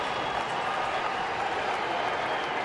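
Ballpark crowd applauding pitcher Daniel Hudson at an Arizona–Cleveland baseball game, a steady distant wash of clapping and crowd noise without a break.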